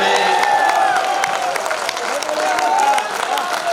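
An audience at a poetry recital in Vidisha applauds and cheers in a loud, continuous wash of clapping, with voices carrying over the crowd noise.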